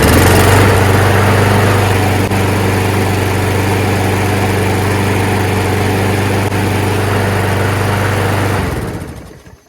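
A self-propelled lawn mower's engine runs loud and close with a steady, rough droning idle for several seconds before it cuts off and winds down to silence.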